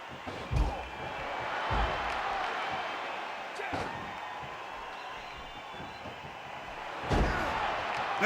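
A wrestler is slammed onto the ring mat at a T.C.W. wrestling event, giving a few heavy thuds amid a steady crowd roar, with a commentator talking throughout.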